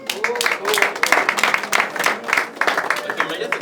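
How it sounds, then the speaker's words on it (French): A small group claps unevenly in a room for a few seconds, the bursts mixed with voices and general chatter. "On applaudit."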